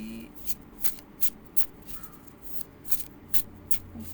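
Wisdom of Pooh tarot cards being shuffled in a series of quick riffling bursts, close and fairly soft, repeating at an uneven rhythm over a quiet background.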